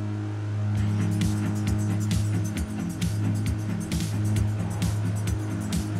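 A motorcycle engine in the video game PUBG, a steady droning hum with a rhythmic pulsing tone, mixed in with background music and continuous throughout.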